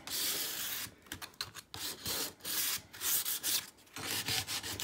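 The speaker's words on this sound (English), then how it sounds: "this is really a 180 sandpaper, and it's not going to take a lot off of it" 180-grit sandpaper rubs back and forth over a painted Dollar Tree frame, a close, dry scratchy sound in rapid uneven strokes with brief pauses between passes.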